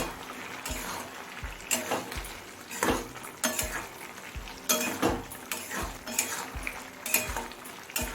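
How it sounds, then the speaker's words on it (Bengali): Raw mustard oil is stirred into pui metuli (Malabar spinach stems) cooking in a pan, giving repeated scraping and clinking strokes of a spoon against the pan over a steady low sizzle, with no talk. "এক টেবিল চামচ পরিমাণ কাঁচা সর্ষের তেল দিয়ে দেবো নাড়তে নাড়তে সরষের তেলটা মিশিয়ে নেব"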